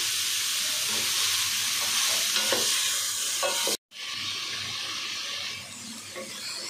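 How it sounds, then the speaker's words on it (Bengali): Soybean chunks fry in hot oil in a pan, a loud continuous sizzle with stirring and scraping, broken by a brief drop to silence before the sizzling resumes. "তো দিয়ে দিচ্ছি সয়াবিন বড়াগুলো, এটাকে আমি হালকা গোল্ডেন কালার করে ভেজে নিচ্ছি।"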